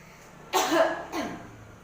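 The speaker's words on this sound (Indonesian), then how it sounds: "langsung Bapak atau Ibu batukkan seperti ini" Two forceful coughs in quick succession, the first stronger and longer, close by with quiet room background, produced to bring up a sputum sample.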